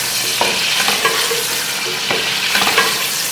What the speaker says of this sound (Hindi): तो गोश्त हमारा हो गया है, इसमें हम मसाला डाल रहे हैं।